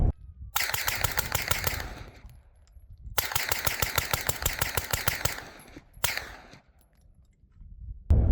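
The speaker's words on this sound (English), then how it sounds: "the integrally suppressed build I just whipped together. It's a CMMG build, radial delayed blowback, so it's supposed to be really good to suppress." An integrally suppressed CMMG radial delayed blowback rifle fires in three rapid bursts, each a fast string of sharp, muffled cracks, with short quiet gaps between the volleys.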